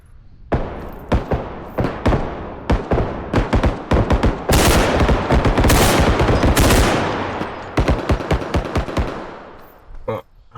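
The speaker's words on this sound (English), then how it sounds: "he was shooting at me there for about a minute or something" Gunfire in the video game Bodycam comes as bursts of loud, sharp shots, some in rapid strings and a long dense stretch of sustained fire in the middle, with brief pauses between volleys.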